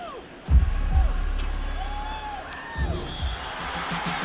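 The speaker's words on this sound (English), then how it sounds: "And the home crowd applauding" A home crowd roars and applauds at the end of a Madden 24 NFL game between the New York Jets and the New York Giants, a broad swell of cheering with a few whoops. Announcers' voices carry over the crowd noise.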